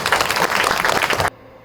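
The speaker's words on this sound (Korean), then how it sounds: "박수 한번 주세요." Applause from a lecture audience in Cheongju, dense and loud for over a second, then cutting off abruptly into near silence.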